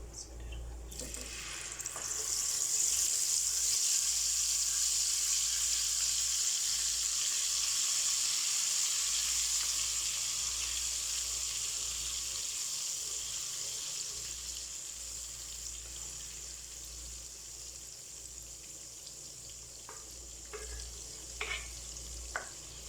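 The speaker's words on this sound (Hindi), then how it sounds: "अब जो हमने ब्राउन प्याज और दही का पेस्ट बनाया था वो डाल देंगे" Brown onion and curd paste for egg korma hits a hot frying pan and sizzles in a loud, steady hiss that slowly eases, with a few faint clinks near the end.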